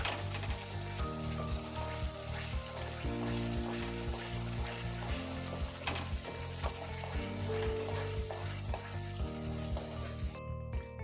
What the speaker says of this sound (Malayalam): ഇത് പാത്രത്തിൽ നിന്ന് വിട്ടു വരുന്നത് വരെ ഇളക്കിക്കൊണ്ടേ ഇരിക്കണം.